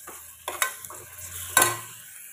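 Mutton with ginger garlic paste is stirred in a pressure cooker, a soft background sizzle punctuated by two scraping, clattering spoon strokes against the metal pot.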